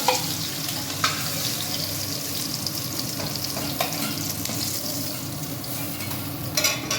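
Hilsa fish cooking in a pan with mustard, poppy seed and cumin paste gives a steady close sizzle and frying crackle, with a few sharper clinks and stirring scrapes scattered through.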